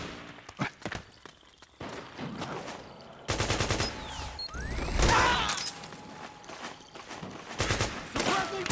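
Heavy gunfire in Metal Gear Solid 4: loud, dense bursts of automatic fire that rattle on and off, then build into a sustained barrage with sharp cracks and impacts.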